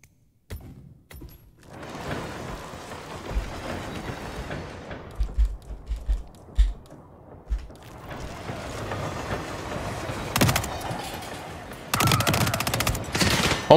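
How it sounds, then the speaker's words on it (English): Silenced guns firing in Hitman 3, muffled thumping shots scattered through a busy mix of game noise, with louder harsh bursts of gunfire near the end. "Let's see how silent these guns are."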